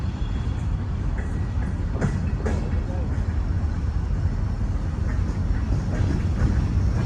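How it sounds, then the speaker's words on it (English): A Conrail diesel locomotive shoves a freight train steadily nearby under overhead electric wires, with low engine drone and occasional clanks, a continuous heavy rolling sound without pause. "PR-8 shoves their train through on the Y as they head towards Port Reading Yard."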